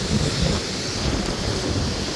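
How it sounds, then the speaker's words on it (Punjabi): Fast-flowing water of the Beas river in flood, a steady broadband rush and roar that fills the whole clip, heard close with wind buffeting the microphone and no voices. "ਆ ਦੇਖੋ ਪਾਣੀ ਕਿੰਨਾ ਜ਼ਿਆਦਾ ਤੇਜ਼ ਆ"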